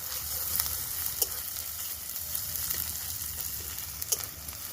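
Garlic, ginger paste and chopped chili fry in a pan, giving a soft, steady sizzle with a few faint clicks of stirring, heard alone and fairly quiet.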